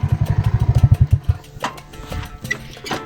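A motorcycle on a rough, waterlogged rural road in Dadyal, Mirpur, Azad Kashmir, puttering close with rapid loud engine thumps that stop after a second, followed by clattering knocks and scattered thuds.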